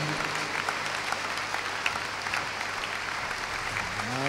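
A church congregation claps to welcome a visiting pastor, a steady, moderately distant round of applause that continues evenly throughout.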